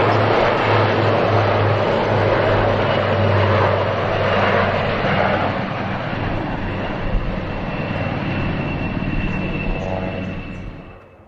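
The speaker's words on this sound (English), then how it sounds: "Although we're seeing it as an elegant display aircraft here" A display aircraft flies past at an air show, a steady loud engine drone with propeller hum that holds for several seconds, then slowly fades away as it departs.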